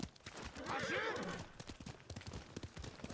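A horse gallops in Ghost of Tsushima, its rapid clip-clopping hoofbeats running steadily throughout, with a whinny rising in the first half and voices talking over the ride.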